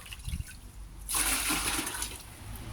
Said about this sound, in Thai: น้ำเนี่ยก็ใส่ไปเต็มเลยเนาะ